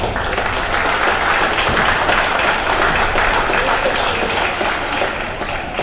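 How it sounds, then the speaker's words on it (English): Audience applause at a high school wrestling meet honoring a senior wrestler, a sustained wash of clapping filling a gym, broad and steady for several seconds. "Give a round of applause for William"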